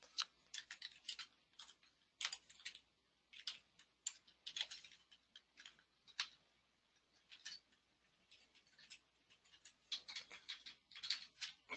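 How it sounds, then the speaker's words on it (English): Quiet, close typing on a computer keyboard comes in irregular bursts of light clicky keystrokes separated by short pauses. "sorry, my typing"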